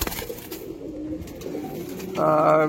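Pigeons coo in low, soft murmuring phrases throughout, closer and louder toward the end, with no talking.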